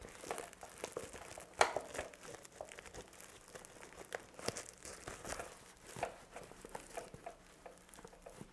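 Crinkly thermal lining being pushed and worked into a homemade insulated lunch bag, giving steady close rustling and crinkling with small crunchy bursts throughout, no talk.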